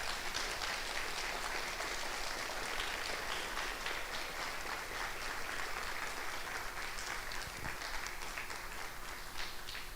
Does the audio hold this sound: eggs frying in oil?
no